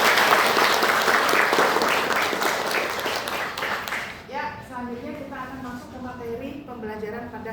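An audience claps for a presenter at an Indonesian health polytechnic teaching session, the dense applause running for about four seconds and then fading as a voice begins speaking over the tail.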